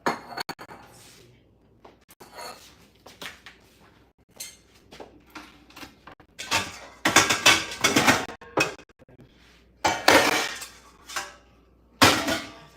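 Pots and pans clatter and clank in bursts as someone rummages through cookware in a kitchen, with metallic knocks and clinks close by, some bursts loud and others separated by brief pauses.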